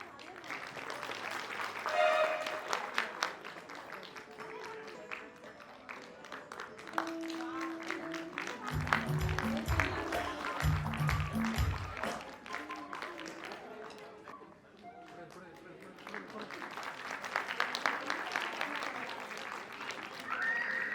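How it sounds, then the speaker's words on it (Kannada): An audience claps at a stage event, the applause rising and falling in waves with bursts of cheering and crowd noise, and a few sharp thumps partway through. "ನಾನು ಚಪ್ಪಾಳೆ ಕೊಡಿ ಅಂತ ಹೇಳೋದೇ ಬೇಕಾಗಿಲ್ಲ, ಅಷ್ಟು ಚಪ್ಪಾಳೆ ಕೊಡ್ತಾ ಇದ್ದೀರಾ"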